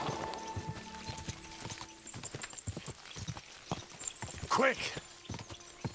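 A horse gallops in Kingdom Come: Deliverance 2, its hooves clopping in a fast, uneven rhythm close by, while a man urges it on and talks over the sound and a brief whinny rises near the end.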